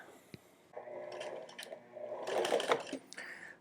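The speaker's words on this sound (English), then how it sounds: "Little top stitch along the edge here." A sewing machine top-stitches along the edge of a bomber jacket made from couch upholstery fabric, running in short bursts of close, moderate stitching with brief pauses between.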